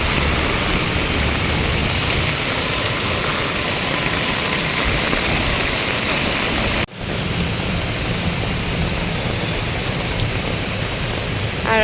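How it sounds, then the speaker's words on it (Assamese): Heavy rain pours onto a street in Guwahati, a dense and steady roar of falling water that runs unbroken apart from a brief cut partway through. "লাহে লাহে যাই থাকোঁ বৰষুণৰ এনজয় কৰি কৰি"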